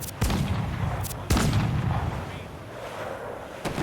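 Ship cannons fire in Assassin's Creed IV Black Flag, with loud, close booms repeating several times over a few seconds, each followed by a rumbling decay.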